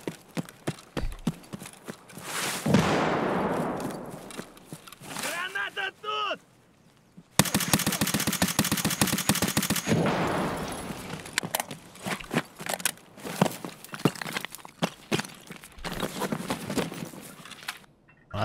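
Sharp gunshots from a weapon in Escape From Tarkov crack out in bursts and quick runs with short gaps between shots, fairly loud and close, mixed with rustle, clatter and bits of talk.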